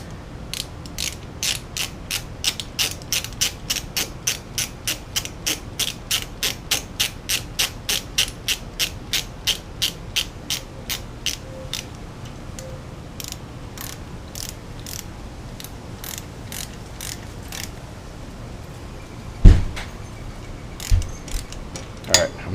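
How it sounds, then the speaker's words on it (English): A ratchet clicks in steady, rhythmic bursts while tightening bolts on a Suzuki Boulevard C50 motorcycle being built as a bobber, close and fairly loud, slowing toward the end with a few heavier knocks. "Just tight enough where I need the ratchet and just loose enough where I can't do it by hand."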